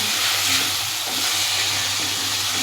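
Chopped tomatoes sautéing in a pan over a medium gas flame, a steady close hiss and sizzle running throughout with no talk, for an egg curry base.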